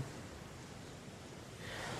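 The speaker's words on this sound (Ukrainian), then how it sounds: "хвилі легенько поглажують камінці та мушлі, омиваючи їх холодною водою" Calm sea waves gently wash over pebbles and shells at the shoreline, making a soft, steady hiss that swells slightly near the end, with no voices.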